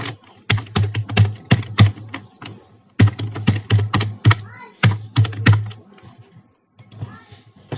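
Code being typed on a computer keyboard during a PHP form-handling lesson, bursts of quick close key clacks separated by short pauses, crisp and fairly loud with no voices.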